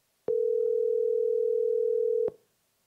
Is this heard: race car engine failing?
no